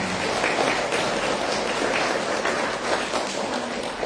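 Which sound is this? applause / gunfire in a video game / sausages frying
applause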